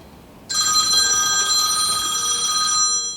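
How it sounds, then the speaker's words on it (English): A work telephone starts ringing suddenly and keeps up a continuous, bright electronic tone. It sounds fairly loud and close, like a phone in the same room as a fly-tying desk. "there's the work phone, of course."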